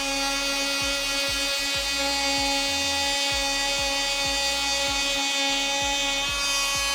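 An oscillating multitool sands steadily at a set speed, a loud continuous high whine with a buzzing hum underneath and a faint regular low pulsing, close to the listener throughout.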